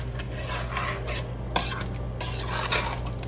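Mutton stirred into a thick biryani gravy makes repeated scraping strokes against the pot, with a sharp metallic clink midway over a low steady background hum.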